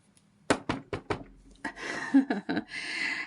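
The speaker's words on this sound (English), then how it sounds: "Shortly after, there is another knock on the door," Several sharp knocks on a wooden door, four quick raps at moderate loudness, followed by a muffled shuffle and clatter.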